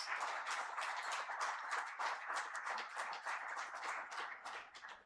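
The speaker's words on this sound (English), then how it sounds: "Ladies and gentlemen, please welcome our dignitaries with a warm round of applause" An audience at a formal ceremony gives a warm round of applause for arriving dignitaries, a dense, even wash of many hands clapping that carries steadily throughout without talk.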